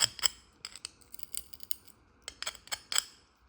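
Glass cutter used as a grozer, nibbling down along the edge of a piece of stained glass: a series of sharp, close crunching snaps and clicks in irregular bursts, with brief quiet gaps between.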